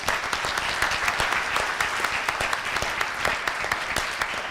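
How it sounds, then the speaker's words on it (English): An audience gives a steady, continuous round of applause at a live-streamed talk, with dense clapping sustained throughout and no voices above it. "Let's give a round of applause to Dr."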